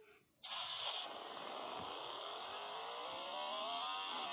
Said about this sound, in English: Is that a muscle car engine?